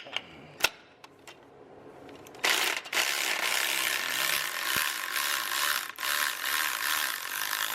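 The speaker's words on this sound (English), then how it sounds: "now he'll take the ratchet and loosen this back up" A hand ratchet loosening bolts on a 2004.5 Cummins diesel engine during an injector install: a few sharp isolated clicks, then a long run of rapid, close ratcheting clicks with brief pauses.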